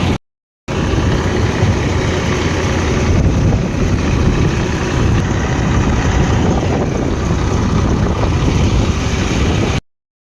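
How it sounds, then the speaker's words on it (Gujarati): A tractor's steady, rumbling engine runs continuously close by during a ride, with wind buffeting the microphone throughout. "અત્યારે અમે નીકળી ગયા છે ટ્રેક્ટરની રાઈડમાં"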